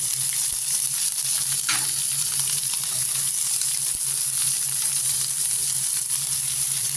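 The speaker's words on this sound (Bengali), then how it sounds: "এই তেলের মধ্যে দিয়ে দিচ্ছি তেজপাতা, কাঁচা লঙ্কা কুচি" Bay leaves and chopped green chillies sizzling in hot oil for an egg curry, a constant dense crackle close by with a brief stir, no talking.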